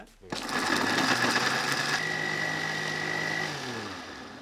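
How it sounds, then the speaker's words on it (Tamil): A kitchen mixie jar grinding about fifteen cashews into a fine paste for a wedding-style chicken gravy, a loud steady motor whine that starts abruptly and runs continuously, easing slightly toward the end. "முந்திரி ஒரு பதினஞ்சு எடுத்து வச்சுருக்கோம் அதையும் நம்ம மிக்சி ஜாரில் போட்டு அரைச்சிக்கலாம்"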